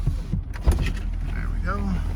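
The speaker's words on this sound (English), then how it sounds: "We'll put up the windows" Power windows on a 2009 Corvette 3LT convertible in Velocity Yellow whir upward in a short motor hum, close by, with faint cabin clatter and a low idle underneath.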